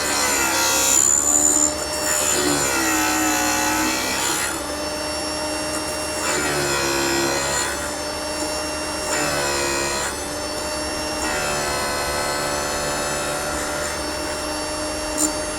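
An MR-13B drill grinding machine grinds a split point onto a drill bit. A steady, close motor whine runs with tonal ringing, and a harsher rasp swells and fades at a regular pace.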